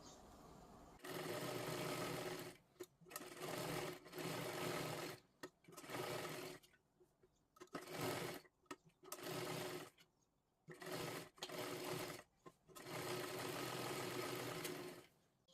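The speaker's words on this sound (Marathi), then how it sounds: "आता इकडच्या बाजूला पूर्ण शिलाई मारून घ्यायची आहे" A sewing machine stitching blouse fabric runs in repeated loud bursts of a few seconds each, broken by short pauses as the cloth is repositioned, close and steady with no voice over it.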